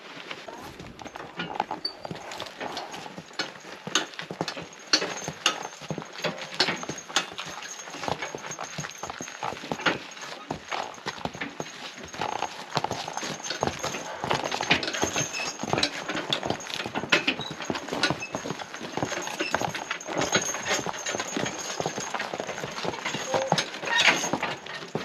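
Percheron draft horses walk down a road, their hooves clip-clopping in a steady, moderately close rhythm for the whole stretch, with faint sounds around them.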